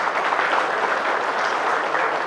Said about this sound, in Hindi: ताली बजा सकते हैं उनके लिए?